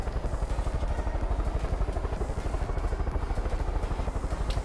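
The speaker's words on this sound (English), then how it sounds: "now that I have a helicopter with guns" Helicopter from the video game Far Cry 5, a steady rhythmic rotor-and-engine thrum that pulses evenly and stays loud and close throughout, with no voices over it.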